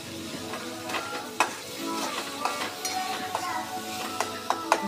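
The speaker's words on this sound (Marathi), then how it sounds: "ह्याच्यामध्ये आपण जे आलं लसूण पेस्ट केलेली होती ती आपण ॲड करायची त्याच्यामध्ये, ही सुद्धा छानशी त्याच्यामध्ये भाजून घ्यायची" Ginger garlic paste sizzling and frying in a pan with tomato puree and whole spices for a hotel-style paneer dum biryani, a steady crackle broken by occasional stirring scrapes and light utensil clinks.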